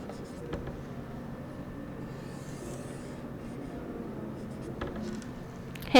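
A pen scratches faintly and steadily as a graph is drawn by hand during a chemistry lesson on gas laws, with a soft room hum and a few light taps.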